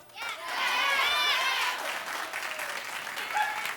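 A daytime talk-show studio audience claps in a dense, steady burst with a few whoops, swelling quickly and then easing to a lighter patter that continues to the end.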